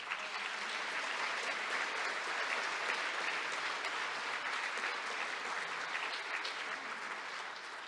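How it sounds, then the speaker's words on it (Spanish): An audience applauds at a book presentation, with dense, even clapping from many hands filling the room. It holds steady and strong for nearly eight seconds before easing slightly at the end. "Nuevamente un aplauso."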